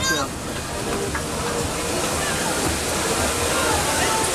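A shower ride at the Nigloland amusement park sprays water in a loud, continuous hissing rush that fills the whole stretch, with voices mixed into the spray.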